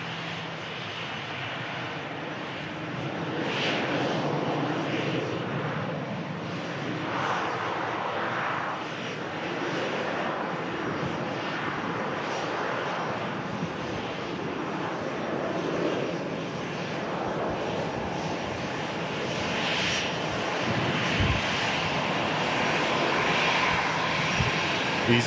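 An EasyJet passenger jet arriving at Manchester Airport from Palma de Mallorca, a steady broadband engine roar that holds at a fairly constant level throughout, with a faint voice now and then in the background.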